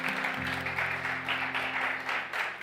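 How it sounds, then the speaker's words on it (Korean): Church congregation at a youth service clapping for the media team, a moderate, even patter of many hands that is fairly soft and distant, with a low sustained tone running underneath. "우리 미디어팀한테 그간 감사하다라고 우리 고맙다고 박수 한번 할까요?"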